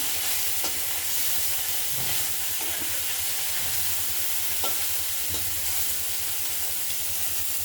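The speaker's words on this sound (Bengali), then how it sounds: "অল্প অল্প করে ভাজলে পরে মাছগুলো সুন্দর ভাজা হয়" Steady sizzling of small fish frying in hot oil in a kadai, a continuous crackling hiss with a few soft clinks, close by and without voices.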